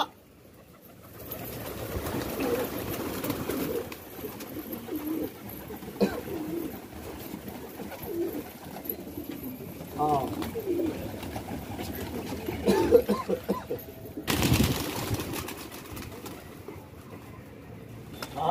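Soft pigeon coos and rustling come and go outdoors, with faint traffic or engine hum behind and a few brief louder bumps.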